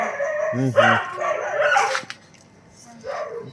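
A dog gives a couple of close, sharp barks, followed by a whiny yelp and another short bark-like sound.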